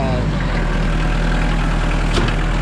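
A tractor engine idles with a loud, steady low rumble and constant throb while working on a gravel driveway, someone talking over it.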